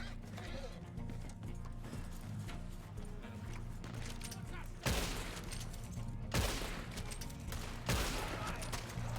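A mounted machine gun in the Red Dead Online video game fires several loud bursts over a steady low game soundscape, with horse hooves and other game sounds in the background.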